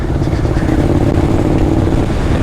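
A Honda VTR 250 motorcycle engine runs loud and close, a steady rough mid-pitched drone holding an even idle without revving or talk.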